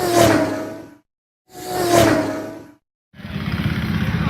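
Motorcycle engines roar past in loud bursts at a motorcycle festival, two separate passes followed by a sustained rumbling revving, close by with no talking.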